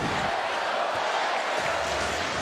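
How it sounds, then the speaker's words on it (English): Arena crowd roaring during a Golden State Warriors versus Portland Trail Blazers NBA game, a dense, loud, sustained wash of cheering with no break. "Boy, the crowd loves it."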